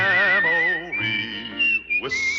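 A clear, melodic human whistle carries the Tombstone Territory theme tune, sliding between sustained notes in a short, bright phrase close to the listener.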